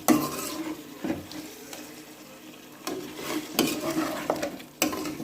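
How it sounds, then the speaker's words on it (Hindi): A spoon stirs chicken malai handi with cream in a pan, giving soft sizzling, wet mixing sounds and occasional metallic scrapes and knocks against the pan, close up, with no talking. "आप इसको अच्छी तरह मिक्स कर लें।"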